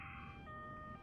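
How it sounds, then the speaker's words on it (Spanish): A wailing ambulance siren with steady high tones, heard at a distance over a low rumbling background. "¿Y el ruido de la ambulancia?"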